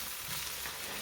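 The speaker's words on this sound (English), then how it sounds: "Okay, and I'll stir that up." Mongolian chicken stir fry sizzling steadily in a hot pan as it is stirred, a close, continuous frying hiss with no voices.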